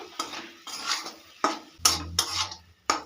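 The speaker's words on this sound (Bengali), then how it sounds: "আলুটাকে মশলার সঙ্গে একটু ভেজে নেবো" Mashed boiled potatoes frying with spices in a pan, heard as a spatula scraping and clattering against the metal in repeated strokes over a faint sizzle, close and with no talk.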